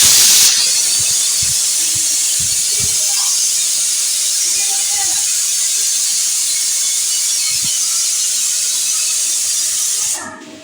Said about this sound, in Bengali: এই তো প্রেশার কুকারে মাংস বসাই দিছি। ওইখানে মাংস হইতেছে, গ্যাস প্রচুর আসছে।